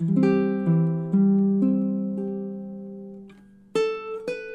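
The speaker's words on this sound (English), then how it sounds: "So that measure 22 in time, should sound like this." D: Baritone ukulele playing measure 22 of a song, a series of plucked notes in steady time that slow and hold near the end before two brighter strums, close up with no voices.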